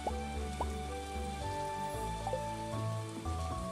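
Rain falling in the video game Stardew Valley, a steady wash of patter layered under tonal game music notes that step and sustain throughout.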